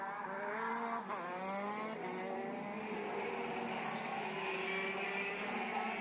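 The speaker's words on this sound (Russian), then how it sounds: "Карты серии КЗ-2, в прошлом эта серия называлась Интерконтиненталь С, имеет двухтактный двигатель водяного охлаждения объемом до 125 кубических сантиметров" KZ-2 racing karts with two-stroke, water-cooled engines up to 125 cc scream past at a track race, a continuous high revving whine with pitch sweeps as engines rise and fall, loud and steady throughout with no talk.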